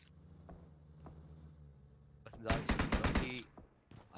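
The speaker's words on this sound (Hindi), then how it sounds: "गॉब्लिन कुछ गोलियां उन पे भी दागी गई" Rapid automatic gunfire bursts from a battle royale esports match, faint isolated shots early, then a loud dense volley mid-clip, with a commentator's voice faintly underneath.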